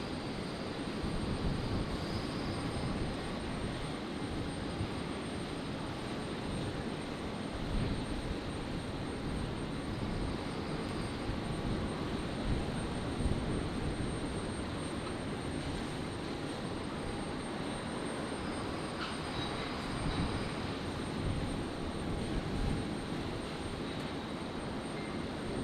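A Jetstar Airbus A321neo in new livery arrives at Brisbane airport on a stormy night, its jet engines producing a steady, broad roar that stays loud and unbroken throughout.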